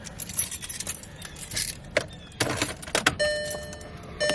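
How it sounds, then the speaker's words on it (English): Keys jangle and click close by, followed by a Volkswagen Passat starting with a brief chime pattern, quiet and intimate in an enclosed space. "let's turn the car on."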